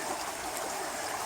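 Creek water runs with a soft, even rushing wash, heard faintly and alone with no voices.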